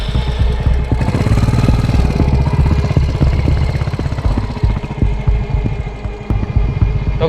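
A motorbike engine runs steadily throughout on a rainforest trip, a loud close low rumble with a continuous throbbing rhythm and no talk over it.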